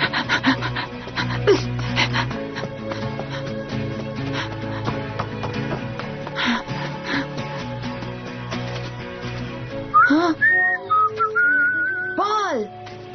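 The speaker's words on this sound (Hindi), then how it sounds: "मैंने आपकी सीटी सुनी" Human whistling rises into a clear melodic tune near the end, sliding up and down in bright bursts over a busy outdoor movie soundtrack with rustling and background noise.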